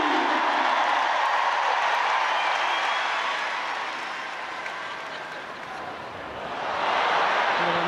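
A sellout crowd of 60,000 fills Emirates Stadium for a WSL women's football match, Arsenal against Tottenham, with a steady broad roar of applause and cheering throughout that dips briefly midway before swelling again.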